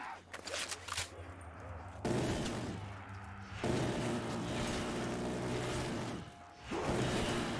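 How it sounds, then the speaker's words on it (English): Black Ops 3 Zombies Death Machine minigun fire in dense, loud bursts, a short sustained volley followed by longer continuous roaring streams with brief breaks, set against game ambience. "I wonder why the minigun death machine lights him on fire"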